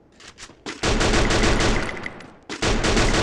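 Rapid automatic gunfire in a shooting video game, two loud sustained bursts separated by a brief pause, with no talk.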